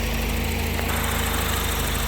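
A Volvo car engine idles in its engine bay after wiring repairs, a steady, even mechanical hum with a low pulsing throb that runs unbroken throughout, with no voices.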